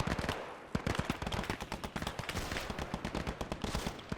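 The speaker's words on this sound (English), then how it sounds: "Oh, that machine gun is tearing them up here." Machine gun fire in the video game Gates of Hell, a dense continuous stream of rapid, sharp shots with some heavier reports mixed in, loud and unbroken throughout.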